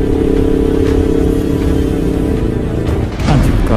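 Steady, loud motorcycle engine drone on a road, heard from a riding motorcycle with a second bike following close behind. The rumble and wind noise run continuously with a brief dip and swell near the end.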